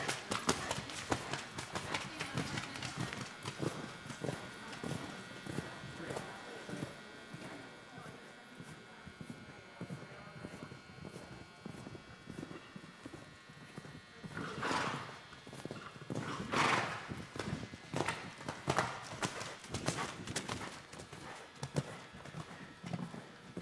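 Horse cantering over a show jumping course in an equestrian medal class, hoofbeats thudding in a steady rhythm under wind and faint background voices, with a louder burst of hooves near the end.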